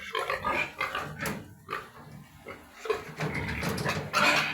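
Pigs on a farm, a boar and a sow mating, give faint, intermittent grunts and squeals in irregular bursts, with no clear talking.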